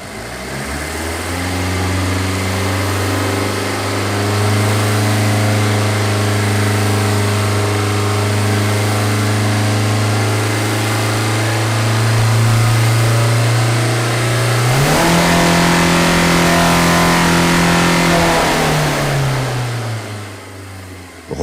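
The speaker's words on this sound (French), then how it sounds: "Suivons les indications à l'écran pour monter progressivement au régime maxi du moteur." A car engine during a smoke opacity test holds a steady high rev, then climbs further toward maximum rpm near the end before easing back down, loud and continuous, with no talking.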